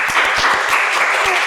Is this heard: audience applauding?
yes